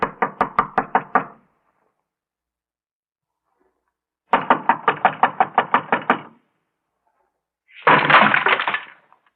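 Three bursts of knocking on a door, the first two rapid series of about eight to ten sharp knuckle raps each, the last a heavier, faster pounding, loud and close with silence between.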